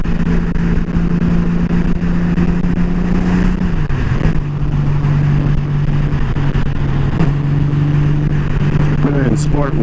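Steady engine drone from a 2019 Honda Goldwing being ridden in fifth gear, pitch holding then dropping and settling, with wind noise and a rider talking over it.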